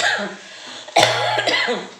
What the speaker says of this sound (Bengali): কলকাতা খেতে খেতে কাশি হয়ে গেছে